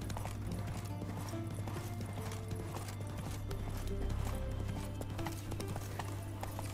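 Horse hooves clip-clop steadily while riding through countryside in the video game The Witcher 3, a continuous rhythmic trot over a low hum, with no talking.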